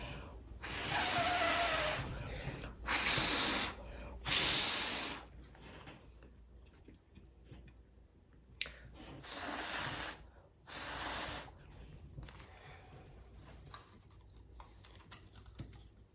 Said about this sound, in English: And now I'm going to blow this one out with my mouth